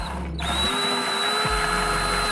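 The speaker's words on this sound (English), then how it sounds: "Now we're going to drill our little pilot hole. We're using an 1/8 inch drill bit." A power drill boring a pilot hole with a 1/8 inch bit while installing a removable license plate mount, a short steady high whine broken by a brief pause, close and alone.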